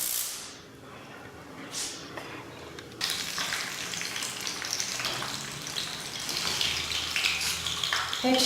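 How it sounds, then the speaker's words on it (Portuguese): Oil sizzles and crackles steadily as chilled risoles snacks deep-fry, growing louder and busier partway through, a dense continuous hiss. "Retirando mais salgadinhos da fritura"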